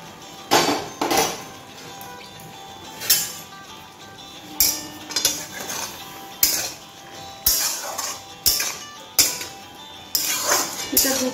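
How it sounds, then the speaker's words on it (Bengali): A pot lid comes off and fish is stirred into a taro curry with malabar spinach. A metal spoon clinks and scrapes against the pot in a steady rhythm about once a second, close and bright. "এবারে ঢাকাটা খুলে মাছগুলো এর মধ্যে মিশিয়ে দিলাম"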